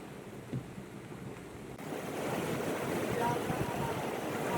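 Floodwater of the Tansa river, swollen past the danger level by very heavy rain near Khanivade beside the Mumbai–Ahmedabad highway, rushes as a steady broad roar that grows louder after the first two seconds, with wind buffeting the microphone.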